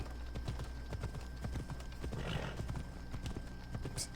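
A horse's hooves clip-clop in a steady galloping rhythm while riding in Assassin's Creed Odyssey, with faint game ambience and a brief whinny near the end.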